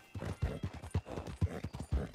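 Horse hooves in the Red Dead Redemption RP video game thud in an even trotting rhythm, about two beats per second, close and moderately loud with nothing else over them.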